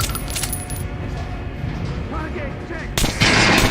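Gunfire at an armored training dummy in the video game Metro: Last Light: a few sharp shots and metallic impacts at the start, a quieter stretch, then a loud burst near the end.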